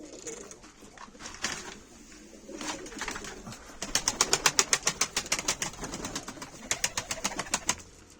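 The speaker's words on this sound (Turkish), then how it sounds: "Her yer kuş. Alayına kuş." A flock of Mardin pigeons coos and flaps nearby, a dense chorus of calls with a rapid run of rhythmic wing claps in the middle, fairly loud and close.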